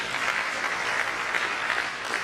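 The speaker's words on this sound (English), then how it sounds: "I thought you would clap for us" Audience applause at a university college lecture in Nigeria, a steady dense wash of many hands clapping, fairly close and even throughout, with no talk over it.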